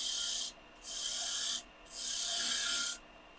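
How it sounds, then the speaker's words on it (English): A spindle gouge cutting wood on a lathe while shaping a spurtle: three steady hissing, rasping strokes separated by short pauses, close and fairly loud, with no talk. "the spindle gouge"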